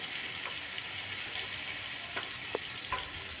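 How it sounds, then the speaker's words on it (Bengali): Pieces of pointed gourd (potol) fry in hot oil in a pan. A soft, steady sizzle is heard, with a few faint clicks and stirring knocks. "এবার পটলগুলোকেও একটু ভালো করে ভেজে নেব।"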